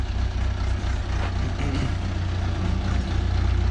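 A vehicle hauling hay, driven by a grandfather, rolls past close by. Its engine makes a loud, steady low rumble that stays heavy and continuous the whole time, with no voices.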